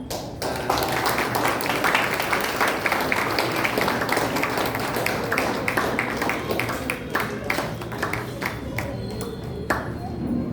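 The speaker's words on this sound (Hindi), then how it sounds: "सुरभि के लिए जोरदार तालियां" Audience applause at a Junior Arya Samaj kids' programme in Bangalore, a sustained crowd of clapping hands that is loud and steady throughout, with scattered sharper claps standing out near the end.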